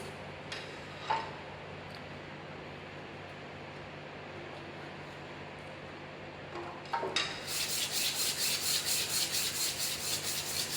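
Emery sheet abrasive polishing a workpiece held in a vise, a steady close rasping rub that grows louder and brighter in the second half after a few faint earlier scrapes.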